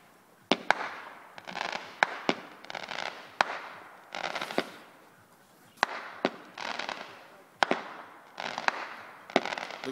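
Fireworks going off at a cottage, a series of sharp, loud bangs and crackling bursts at irregular intervals over ten seconds, each with a brief hissing tail.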